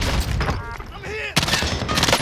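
Rapid bursts of gunfire in a video game crackle loudly and continuously through the moment, dense and close, with a player's voice shouting briefly over the shots.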